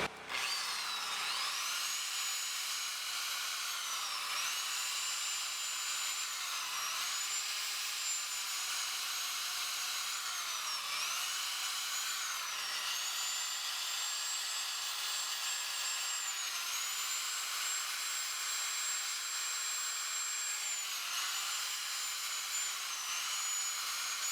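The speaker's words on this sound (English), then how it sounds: "Now we'll smooth it out with a sander." Power sander smoothing a chainsaw-carved wooden hawk, a steady high whine that runs loud and continuous with slight dips in pitch as pressure changes against the wood, no talking.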